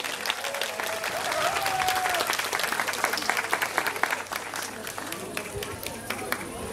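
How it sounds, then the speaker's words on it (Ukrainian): Outdoor Constitution Day celebration on the Arabat Spit where a crowd gives sustained, dense applause, steady and moderately distant throughout, with faint murmur and a voice beneath it. "Бурхливі, бурхливі оплески."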